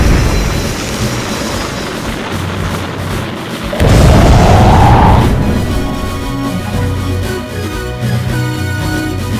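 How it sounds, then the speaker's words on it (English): Chemical rockets firing at the launch of a Thunderbird 3 fan-made rocket craft: a sudden loud roaring blast with a rising whoosh, then a sustained rumble fading slightly under steady ambient noise. "Firing chemical rockets."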